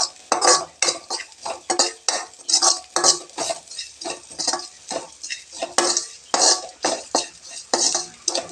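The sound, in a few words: sautéing in oil for carrot rasam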